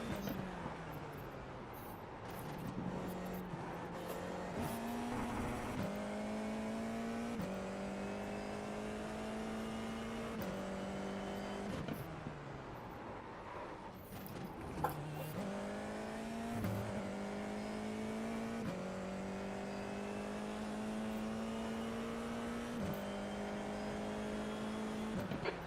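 F4 race cars in the iRacing sim roar through gear changes, their engine pitch climbing in repeated rising sweeps with brief drops at each shift, and other cars are audible nearby as the sound carries on continuously without speech.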